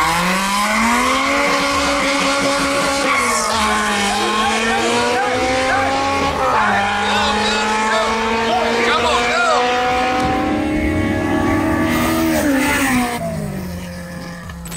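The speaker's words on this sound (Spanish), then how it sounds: "aquí tenemos dos carros de una categoría inferior corriendo con carros más modificados" Street race cars, lower-category cars running against more heavily modified ones, roar past loudly with rising and falling engine pitch and squealing tires throughout, fading slightly near the end.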